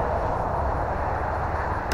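A Horizon Hobby Viper 70mm electric ducted-fan RC jet on a 6S battery flying, giving a steady, loud, continuous whooshing roar with no gaps.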